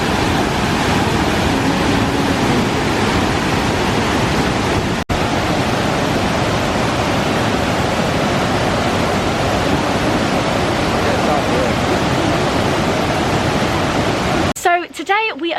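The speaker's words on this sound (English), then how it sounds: "To get to the very top of the waterfall, and it's so loud, but I really like the sound of" A loud waterfall in the Chiapas rainforest near Palenque, Mexico, heard up close as a dense, constant roaring rush of water that fills the whole stretch, with a brief knock partway through.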